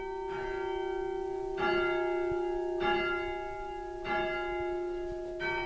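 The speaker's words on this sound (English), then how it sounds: "Ladock bells have been here 140 years." Ladock church bells, a ring about 140 years old hung in a worn wooden frame, strike in a slow, even sequence, each struck note ringing on and overlapping the next, clear and moderately distant with no voices.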